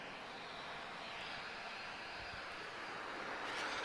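A Buzz Boeing 737-800 departs Lisbon Airport for Budapest, its jet engines a faint, steady, distant roar that holds evenly throughout.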